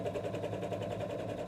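A sewing machine stitches the first step of a ball snowman stuffy, giving a steady, close mechanical whir with a fast repeating pulse that runs unbroken and without talk.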